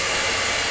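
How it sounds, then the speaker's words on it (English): A blower drying a painted acrylic canvas gives a loud, steady rushing hiss throughout the short moment, close and with no voices. "I know you hear the blower."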